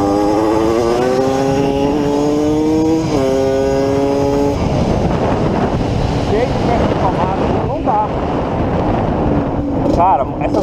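Yamaha DT180 two-stroke motorcycle engine revving up loudly, pitch climbing in stepped rises, then settling into a raspy, crackling idle with brief blips, close and continuous with wind noise.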